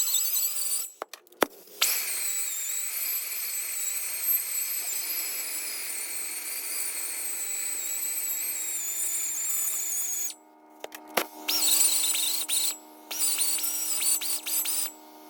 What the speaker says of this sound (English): this die grinder that I'm using here, I did buy from Harbor Freight